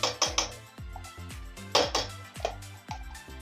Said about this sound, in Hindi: अब इसे इस तरह से धीरे धीरे चलाती रहूंगी।